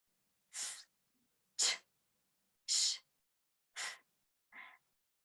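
Five sharp sneezes, evenly spaced about a second apart, close and fairly loud, the last one a little softer.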